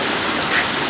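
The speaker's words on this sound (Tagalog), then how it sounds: "Ay, sa wakas. Nasa falls na." Parasapas Falls pours as a steady, close, loud broadband rush of falling water, heard alone for about a second.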